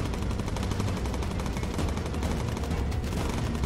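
Rapid continuous gunfire from enemy fighter planes in the aerial combat game Bomber Crew, a dense unbroken rattle of shots filling the whole stretch at steady loudness, no talking.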